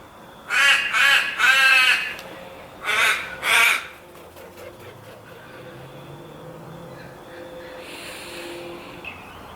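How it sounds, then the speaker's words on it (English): Crows caw outdoors, a loud group of harsh calls in two bursts over the first four seconds, followed by quieter ambient background and a faint distant caw near the end. "The crows agree."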